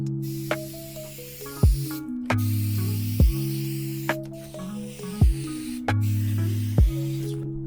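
A spray paint can coating a truck hood, with broadband hissing bursts of spray separated by short gaps and sharp clicks, close and fairly steady in rhythm.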